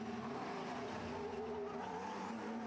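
A Formula 1 car pulls out of the pits during qualifying. Its engine is a faint, steady hum heard from a distance.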